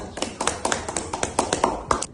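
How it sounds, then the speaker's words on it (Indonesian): A classroom of students claps for a classmate, rapid irregular hand claps close by, steady for about two seconds with a few sharper individual claps standing out. "Tepuk tangannya buat Andika yang bisa jawab."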